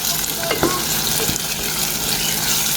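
Tomatoes frying in a hot pan with shrimp paste, garlic and ginger, a loud continuous close sizzle with a few stirring scrapes and no talking.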